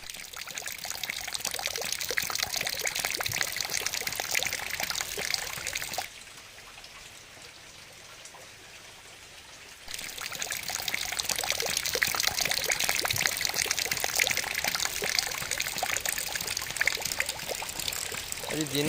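Heavy rain falls with a steady, close splashing and pouring roar. It drops to a quieter patch for a few seconds midway, then returns at full strength.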